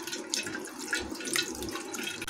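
Running water splashes steadily while fresh paneer is rinsed and worked by hand for rasgulla. The stream is close and continuous, with small sloshes and drips as the hands move through it.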